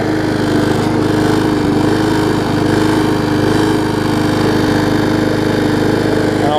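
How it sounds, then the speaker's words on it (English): A push lawn mower with a classic Briggs & Stratton engine runs nearby, loud and steady with a fast, even chugging beat and a slight rattle throughout, no voices. "Alright, mower number 2's running."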